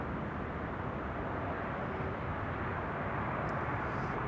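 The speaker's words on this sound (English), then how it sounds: "9993 arriving from Dubai World Center. 777 freighter." Emirates SkyCargo Boeing 777 freighter arriving at Schiphol gives a steady, dense low rumble of engine noise, even in level across the whole stretch with no talk.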